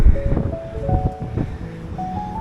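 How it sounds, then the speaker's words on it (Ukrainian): Atlantic Ocean waves at Madeira surge and wash in a continuous low rumble, mixed with wind, while faint tonal sounds drift over the top. "бачимо хвилі океанські"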